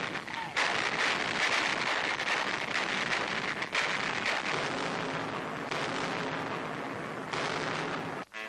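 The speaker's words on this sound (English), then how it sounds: "Manning anti-aircraft batteries, they feed shells and fire them with clockwork precision." Anti-aircraft guns fire shells in repeated heavy booms and bursts in a loud, dense, crackly 1942 newsreel recording, with sustained noisy blasts that run almost continuously.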